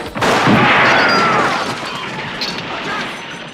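Gunshot sound effect: one loud, close blast with a booming echo that fades over a few seconds, played alone with no voice over it.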